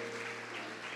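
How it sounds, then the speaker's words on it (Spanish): A church congregation claps loudly together during a Spanish-language worship service, a brief wash of dense, steady applause with no voices over it. "Dale un aplauso fuerte a Jesús."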